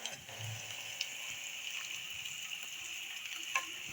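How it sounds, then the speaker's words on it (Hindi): Chopped vegetables and shredded chicken fry in a pan for chicken paratha filling, giving a steady, soft sizzle with a few faint clicks and stirring taps. "जो हमने चिकन जो श्रेड किया था ये हम शामिल कर देंगे"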